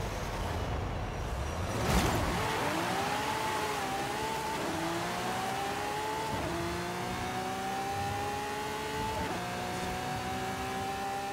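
Drag car in Forza Horizon 5 launching hard and pulling through its gears, engine note climbing in rising sweeps broken by sharp shift drops, loud and steady throughout with a brief burst at the launch.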